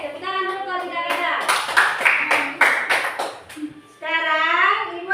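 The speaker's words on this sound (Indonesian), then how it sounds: "Oke, tepuk tangan dulu kalau tidak ada." Pupils in a classroom give a short burst of rhythmic group clapping lasting a couple of seconds, with a teacher's voice speaking before and after it.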